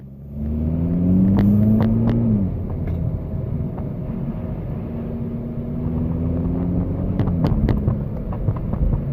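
A car in sport mode, its engine revving up and holding high RPM, two rising pulls with a steady drone and wind rumble, loud and close.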